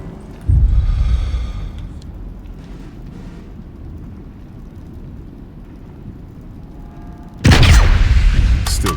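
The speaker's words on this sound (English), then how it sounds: "the explosion of the searchlight killed him." Searchlight exploding in Sniper Elite: Resistance, a sudden loud boom that fades into a long low rumble, followed by a second heavy, bright blast near the end.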